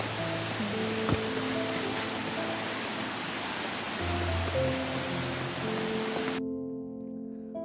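Hurricane Falls roars steadily at Tallulah Gorge, a broad unbroken wash of falling water heard from a suspension bridge above it, holding level until it cuts off abruptly near the end.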